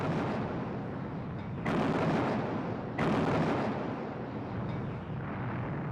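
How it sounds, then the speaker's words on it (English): Royal Navy warships fire on French battleships during World War II, producing heavy, booming rumbling blasts. Two louder reports stand out over a continuous roar of gunfire. "So the British opened fire on their former allies"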